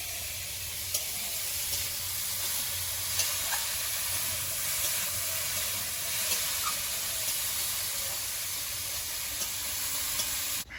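Quiet, continuous, even hiss of cauliflower frying in a pan with salt and turmeric, sizzling steadily from start to finish with faint scattered pops.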